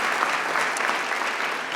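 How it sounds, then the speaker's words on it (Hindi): A crowd at a Rockstar fan meet breaks into loud, dense applause, a steady wash of many hands clapping with no voices standing out. "एक बार जोरदार तालियां लक्ष्य के लिए बजा दीजिए प्लीज एवरीबॉडी।"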